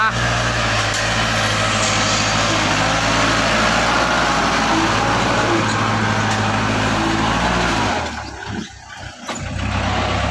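Tractor engine running at a steady, loud idle close by, a constant low rumble that cuts out abruptly near the end, leaving brief quieter rustling.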